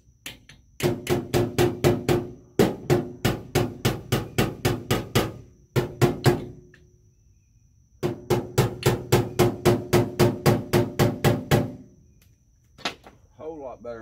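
A hammer taps the ridges of a dent in a car body panel in quick, sharp metallic strikes, close and loud, arriving in several rapid bursts separated by short pauses.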